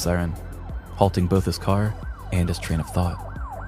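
A police siren wails in rising and falling sweeps, loud and close, while a man exclaims over it.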